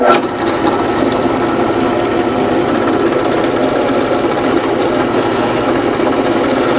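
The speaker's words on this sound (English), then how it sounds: "Make sure you got a sharp drill bit to do this." A continuous loud grinding whir of a drill boring through steel, steady and unbroken after a brief initial spike, close to the microphone.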